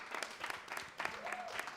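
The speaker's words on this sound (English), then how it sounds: "Let's give a round of applause to Elizabeth to do the closing remarks." Audience applause at a live event on women leading human rights movements: a faint, steady patter of many hands clapping that carries through the short stretch, with a voice briefly heard near the end.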